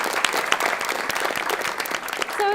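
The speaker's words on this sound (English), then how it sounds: "Everyone give her a round of applause." Brisk applause fills a studio show segment for Father's Day, a dense run of clapping at an even, fairly loud level, with a brief voiced sound rising right at the end.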